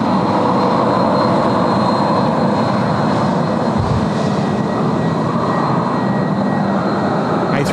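A jet airliner takes off at Sydney Airport, a loud, sustained engine roar and rumble that swells and shifts slightly as it passes, with no talk.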